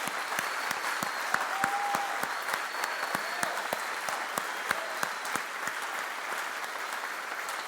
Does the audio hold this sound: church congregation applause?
yes